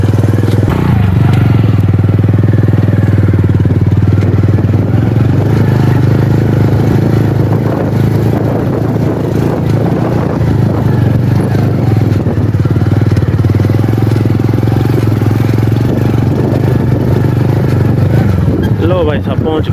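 A motorcycle rides along a narrow, rough sandy path, its engine a loud continuous rumble mixed with clattering and scraping from the bumpy ground, with a voice faintly audible.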